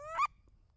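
A wood duck call whistle imitated by a person, one short rising light whistle with harmonics lasting about a quarter second, close and clear, then quiet.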